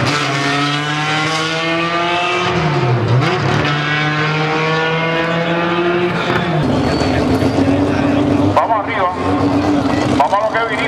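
Honda Insight Pro Stock drag race car at a spring import drag meet, its engine droning loud and steady with rising revs and a brief dip, close and continuous, with an announcer talking over it.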